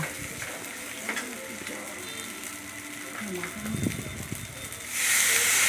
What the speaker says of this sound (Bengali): এবার সিমাইটাকে ভেজে নেব গাজর বিনস টমেটো লঙ্কা কারি কারি পাতা সবার সঙ্গে ভালো করে ভেজে নেব